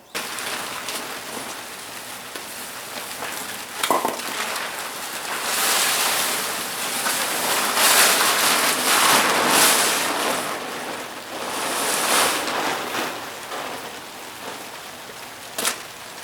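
Steady rain pours outdoors around a 1967 Ford F100 pickup, a broad even hiss with a few louder gusty swells and occasional sharp drips or taps, close and continuous with no talking.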